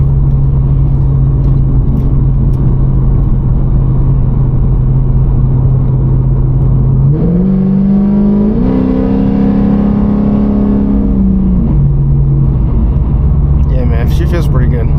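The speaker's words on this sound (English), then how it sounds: "This car is absurdly fucking loud." A loud tuned Pontiac G8 engine revs up and holds a high roar before settling back to a deep idle rumble, close by and continuous.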